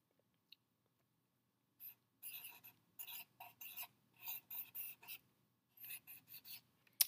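Marker writing on a paper anchor chart, heard as a run of short, close scratchy strokes in quick bursts with pauses between, in a quiet room.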